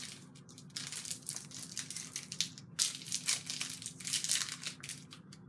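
Someone bites and chews a Crunchie-style chocolate bar with a honeycomb centre, giving close, dry crunching and crinkling bursts that continue in uneven clusters with no talking.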